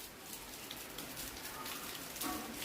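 Rain falls in a steady, even wash of patter that stays constant throughout, moderately close and unbroken by any other clear sound.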